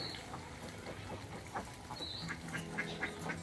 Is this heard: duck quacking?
yes